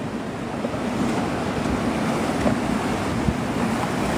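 Storm-season ocean surf rolls in at Ao Nang beach in Krabi, Thailand, a continuous broad roar of breaking waves mixed with gusty wind buffeting the microphone, steady and fairly loud, with no talk.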